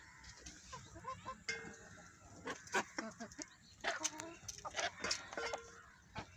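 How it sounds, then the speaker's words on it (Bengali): Native chickens, including a big naked-neck rooster, cluck and call in a small backyard farm, a busy, fairly quiet mix of short clucks and squawks with faint background noise. "আর এই বড় রাতা মুরগিটা, এই আমরা গলাছিলা মুরগি যেটা বলি ওইটা আর কি।"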